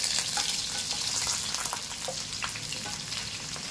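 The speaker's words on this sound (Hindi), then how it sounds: "प्याज को पहले हम गोल्डन फ्राई करेंगे" Onions fry in a pan for an egg pulao, a steady, dense sizzle and crackle with faint stirring scrapes throughout, close and continuous with no voices.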